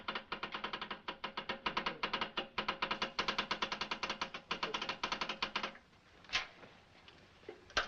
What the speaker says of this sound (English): Do you know what this is? It's a Geiger counter. That clicking means that you have radioactive poisoning.